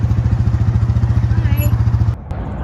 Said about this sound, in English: just before the sound of an engine breaks the silence